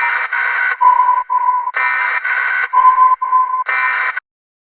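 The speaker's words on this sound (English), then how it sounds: "there's this like emergency siren thing" A loud electronic emergency siren effect in a music track, alternating between a harsh buzzing tone and a lower beep in a repeating pattern, cycling several times before cutting off.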